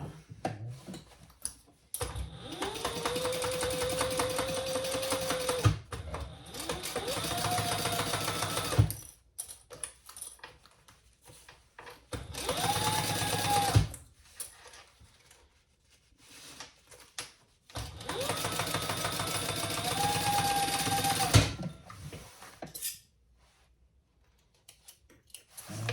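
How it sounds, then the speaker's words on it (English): Sewing machine basting a zipper panel onto bag lining, stitching in long steady bursts separated by pauses, close and loud with no voices. "you're going to add your zipper panel right side up, just like this. And we're just going to baste that in place"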